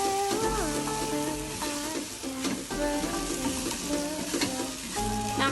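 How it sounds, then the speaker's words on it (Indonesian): Scrambled eggs with a splash of milk sizzle steadily in a pan while a utensil stirs and scrapes through them in repeated strokes, close and continuous, with music playing underneath. "Lalu kita aduk lagi agar susunya lebih meresap."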